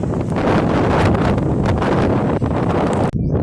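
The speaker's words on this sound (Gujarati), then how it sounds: "એટલો સરસ પવન આવે છે ને" Strong wind roars and buffets the microphone continuously on a tower at a bird sanctuary in Diu, loud and close, with no other sounds standing out.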